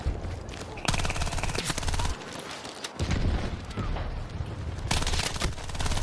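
Rapid automatic gunfire rattles through a Battlefield 6 match, dense bursts of shots crackling in long strings with brief pauses, loud and close with occasional booms underneath.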